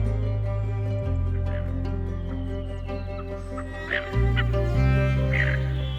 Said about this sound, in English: Numerous waterfowl are squeezed ever closer together.